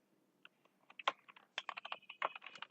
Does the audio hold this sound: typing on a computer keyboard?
yes